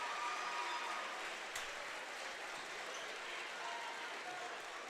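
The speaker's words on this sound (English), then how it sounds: "The senior gets his moment for a cheer from the GET crowd" Home crowd at a high school boys basketball sectional semifinal cheers and applauds a senior, a steady wash of clapping and cheering that holds at moderate volume throughout, with faint talk mixed in.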